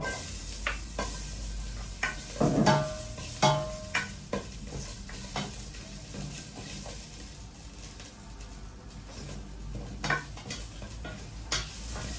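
Ginger sautéed in a pot for Filipino chicken tinola sizzles steadily, with a utensil stirring and scraping against the pot in scattered clinks and a few louder knocks.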